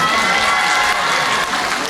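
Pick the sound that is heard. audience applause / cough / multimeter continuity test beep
audience applause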